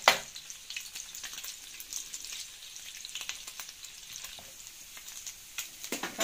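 Chicken gizzards frying in very hot ghee give a steady, close crackling sizzle with sharp pops throughout.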